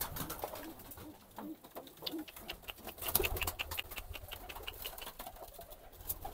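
Pigeons in a coop coo and shuffle faintly while being shooed off, with brief wing flaps and soft rustling across a low, quiet background.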